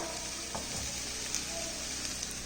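Fish roe frying in oil in a covered pan, giving a steady, even sizzle with faint crackles throughout, fairly quiet and with no voices.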